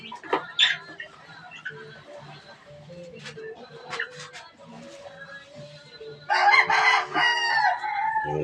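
Chicks and chickens clucking and cheeping nearby, scattered calls throughout with a louder burst of clucking toward the end, while a person talks in between.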